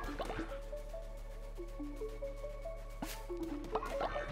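Gentle dripping and squishy liquid splashes as a character waters crops on a farm plot in Cult of the Lamb, soft and close over a steady game music bed with stepped melodic tones.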